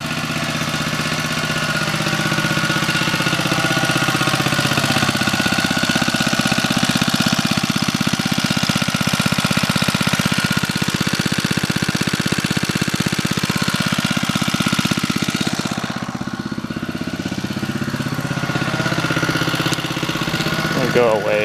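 Older small gasoline engine idling close by in a yard during mole removal, a steady loud drone with a slight dip in level midway, running alone without talk.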